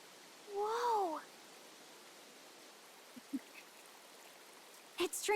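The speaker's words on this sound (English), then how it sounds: "Running water nearby." A soft, continuous rush of stream water in the video game Metaphor: ReFantazio runs quietly throughout, with a short vocal exclamation early on and a few clicks near the end.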